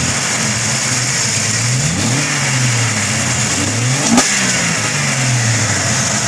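A Jeep 4.0 engine fitted with upgraded 99-and-up injectors revs in gentle swells under light throttle, rising and falling a few times over a steady running drone, close and loud with no talking.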